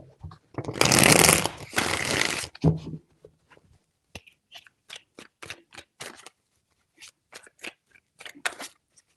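Tarot cards are shuffled up close: a loud riffle burst lasting about two seconds, then a long run of short, crisp card taps and slides with brief gaps between them.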